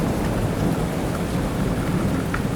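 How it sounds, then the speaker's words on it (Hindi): A fierce storm in a village, with heavy rain pouring in a loud, dense wash and thunder rumbling beneath it, continuous and close with no voices. "एक दिन गांव में भयंकर तूफान आया और बहुत तेज बारिश हुई।"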